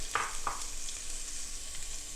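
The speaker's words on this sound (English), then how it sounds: "Going to start by heating up some onion. Ooh, we got some sizzle going." Onions sizzle steadily in a hot pan, a constant crackling hiss with a couple of brief clinks or stirs near the start.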